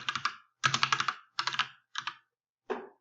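Code being typed on a computer keyboard: quick bursts of crisp, close key clicks separated by short silent pauses, ending with a single lone burst.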